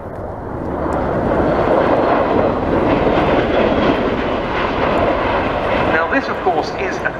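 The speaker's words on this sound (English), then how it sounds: "This, of course, is a tilt-rotor aircraft." A Bell Boeing CV-22B Osprey tilt-rotor aircraft of the 7th Special Operations Squadron flies at the RIAT 2022 airshow, producing a loud, sustained engine and rotor roar. The sound swells and holds for several seconds, with a voice heard over it.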